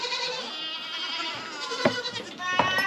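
Baby goats bleat in a dim barn, two short, sharp cries standing out over a steady background hum.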